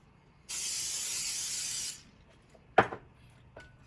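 A single cooking oil spray onto a pan hisses for about a second and a half while making lumpia wrappers, then a sharp clink of the pan is followed by a faint knock.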